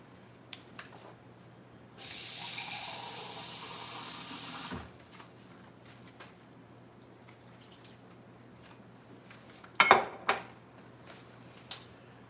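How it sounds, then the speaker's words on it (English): Water pours steadily into a cooking pot for a few seconds, followed by clinks of pots and utensils in a quiet kitchen. "It's gonna need a little bit more water."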